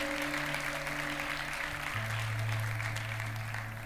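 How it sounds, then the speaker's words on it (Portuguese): A church congregation applauds in a soft, diffuse wash of clapping set back in the room, over a low electrical hum, fading slightly toward the end. "você pode aplaudir o Senhor pelos 40 dias com um propósito"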